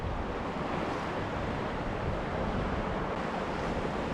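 Ocean surf washes continuously against a rocky California shoreline and jetty at low tide, a close, loud, unbroken roar of water with some wind, and no voices.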